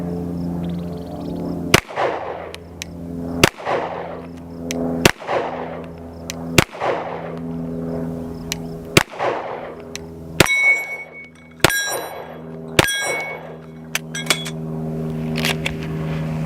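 Rifle shots fired at a target during an extreme torture test of a GOWUTAR A20 optic: loud, sharp cracks spaced one to two seconds apart, some followed by bright metallic pings, each with a short decaying echo.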